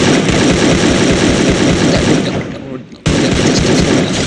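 Rapid gunfire from the Free Fire video game, dense loud bursts of shots and booms filling the clip, dipping briefly near the end before resuming abruptly.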